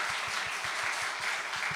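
A church congregation claps together in a brief, fairly quiet burst, a rhythmic run of handclaps at a steady pace spread across the room, with no talk over it.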